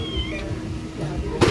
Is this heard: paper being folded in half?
no